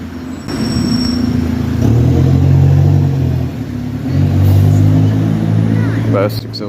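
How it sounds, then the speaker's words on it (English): A London bus engine with a burst exhaust revs and drones loudly with a rough, rattling exhaust note, rising and falling twice, amid road traffic. "Burst exhaust on the D1140 there"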